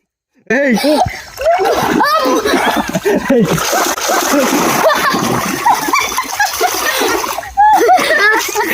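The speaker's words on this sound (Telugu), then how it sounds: "ఈ మడుగు ఇంకాస్త నీళ్ళు ఉంటే దాటడం కష్టమే." People wade through a neck-deep pond, with loud, continuous splashing and sloshing close by as bodies push through the water, while voices chatter and laugh throughout.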